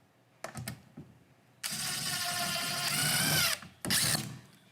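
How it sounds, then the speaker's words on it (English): Cordless power drill with a bit fitted for a home weekend project: two short trigger bursts, then a sustained loud whirring run lasting nearly two seconds, then another brief burst, all close up. "we're gonna grab the drill back"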